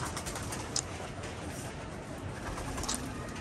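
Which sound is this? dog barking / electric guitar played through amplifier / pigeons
pigeons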